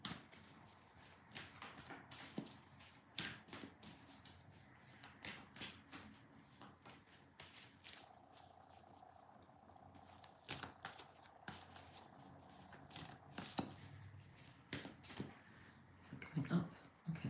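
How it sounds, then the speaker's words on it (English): Tarot cards from a Guardian Angel Messages deck shuffled by hand during a live reading session, a quiet, close run of crisp riffling and tapping bursts that repeats irregularly throughout. "I'm going to start shuffling the cards."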